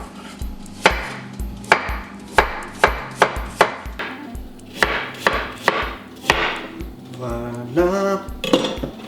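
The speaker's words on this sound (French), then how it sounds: "Et là, on va les couper en vraiment petits morceaux." Knife chopping apples and carrots into small pieces on a board, a series of sharp, close knocks in uneven bursts, some quick runs of rapid cuts, clear and alone with no talk.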